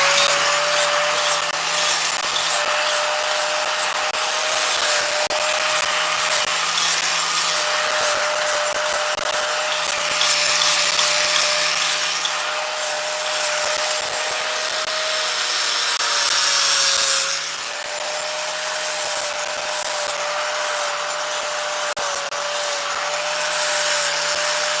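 A high-pitched rotary power tool whines continuously while grinding nose holes into a wooden carving, with steady buzzing and a brief change in pitch partway through.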